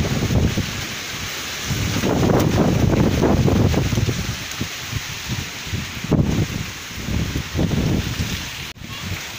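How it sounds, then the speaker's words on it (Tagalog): Very strong typhoon wind from Typhoon Odette roars and gusts continuously with rustling and buffeting against the microphone, rising and falling in powerful surges and close and loud, with no voices. "Perting kusog ka jud hangin jud"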